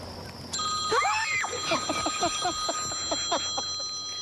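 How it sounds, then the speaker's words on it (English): A telephone rings faintly in a repeated ringing pattern, alongside chirpy tonal sounds and a steady high background tone. "if you listen real close, you might be able to hear that phone ringing"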